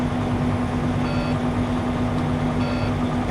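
A truck engine held at 1200 RPM to build air brake pressure during a pre-trip inspection in Canada gives a steady, loud idle hum with a strong tonal drone, while faint beeps chirp twice in the background.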